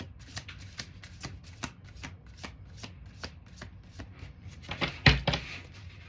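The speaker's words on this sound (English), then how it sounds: "We're going to do 2 more shuffles." Playing cards are riffle-shuffled at a table during a card game, a quick series of close, crisp fluttering riffles, each ending in a soft clack, with no talking.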